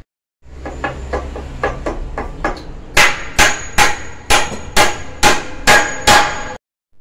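A hammer nailing together the two parts of a wooden door frame, first lighter quick taps, then a run of about nine loud, evenly spaced ringing blows, close and without talk.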